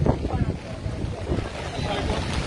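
Hurricane Beryl's wind during landfall in Jamaica: a steady, close, roaring rush of wind buffeting the microphone, with a watery wash underneath, continuous and unbroken throughout.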